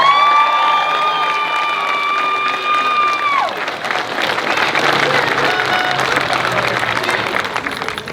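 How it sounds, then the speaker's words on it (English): High school graduation audience applauding and cheering, with a loud crowd of clapping and shouts that swells after a sustained whistle-like tone fades out. "Let's give them all a round of applause."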